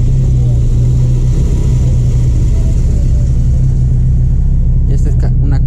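A 2005 single-cab pickup truck's engine runs steadily at idle, a loud low rumble held for several seconds, with a few brief clicks near the end.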